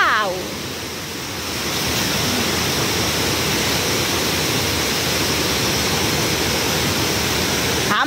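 A mountain stream in Jiri village rushes steadily and loudly, a close, unbroken roar of flowing water from start to finish.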